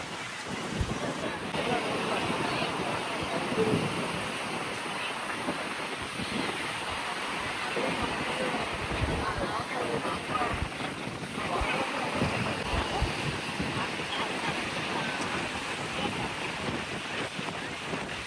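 Bay of Bengal sea waves washing onto the shore at Kanyakumari in a steady roar, with wind buffeting the microphone and occasional distant voices.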